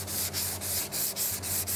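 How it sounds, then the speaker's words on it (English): Block sanding a fibreglass composite pattern for a carbon fibre airbox with 120 grit paper over a block: a steady close rasping rub in even back-and-forth strokes, about four per second, with no talk. "we need to continue to flat this area with 120 grit paper over a block"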